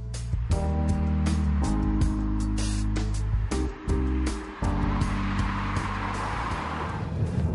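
A Peugeot 308 hatchback being driven, its engine note rising and falling through steady stepped gear changes, loud and close, with a brief dip in the middle.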